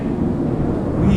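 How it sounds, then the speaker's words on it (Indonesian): Low rumbling thunder rolls steadily during a rainstorm, a dense continuous boom that fills the short moment without breaks. "Petir lagi."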